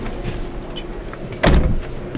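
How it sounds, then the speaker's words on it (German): Motorhome door on a 2021 Rapido M96 fully integrated Mercedes-Benz Sprinter clicks shut with a single sharp, near clack about two-thirds through, over low steady background rumble. "hast du dieses Klacken wieder von dieser Tür gehört? Warte, ich lasse mal zufahren."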